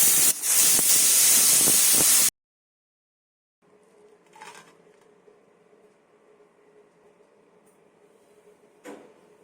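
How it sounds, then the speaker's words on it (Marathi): A pressure cooker cooking broad beans for a coconut stew lets out a loud, harsh burst of escaping steam lasting about two seconds, then cuts off, leaving only faint kitchen background. "Cook it for about 6 to 7 whistles on the pressure cooker"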